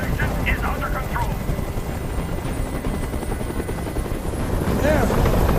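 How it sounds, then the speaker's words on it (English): A helicopter hovers overhead in the video game Detroit: Become Human, its rotor a constant loud thudding drone running the whole time, with faint voices and distant effects underneath. "Tell that helicopter to get out of here."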